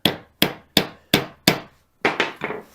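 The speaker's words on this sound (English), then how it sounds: "I'm just going to tap into that broken grease nipple" A flat-bladed screwdriver hammered into a broken grease nipple on a Western D8 spreader: seven or eight sharp metallic taps at a steady beat, then a quicker, looser cluster of blows, loud and close.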